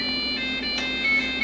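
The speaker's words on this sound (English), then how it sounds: "at least the music is playing through the PC speaker now" SimCity Classic music beeping from the internal PC speaker of a 1992 Philips Magnavox 386 SX-20 computer, thin square-wave tones stepping through a simple melody, steady and moderately loud with no talking.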